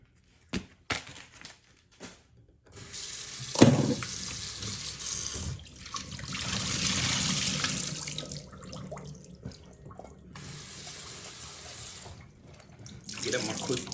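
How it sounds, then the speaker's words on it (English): Running tap water splashing over okra being washed in a kitchen sink, with a few knocks and handling noises at the start before a steady gushing flow that lasts most of the clip. "Just give them a quick wash"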